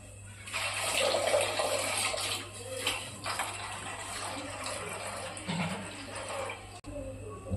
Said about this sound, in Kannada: ಇನ್ನೊಂದು ಗ್ಲಾಸ್ ನೀರು ಹಾಕತ್ತಾರ.